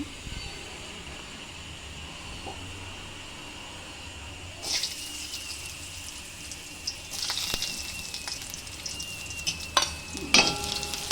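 Raisins fry in a pan for a bottle-gourd halwa, starting as a quiet background hiss that turns into a brighter, bubbling sizzle with occasional clinks and scraping sounds.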